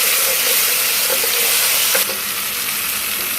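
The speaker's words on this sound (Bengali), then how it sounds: "আগে আমি বাটা মরিচটা একটু ভেজে নিব পেঁয়াজের উপরে" Chili paste frying over onions in a pan, cooking for a duck meat dish, gives a steady loud sizzle with faint stirring, easing slightly partway through.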